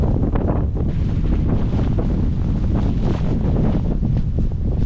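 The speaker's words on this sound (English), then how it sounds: "the wind is crazy" Strong winter blizzard wind in Canada roars and buffets the microphone in loud, continuous gusts, filling the whole stretch with no voices.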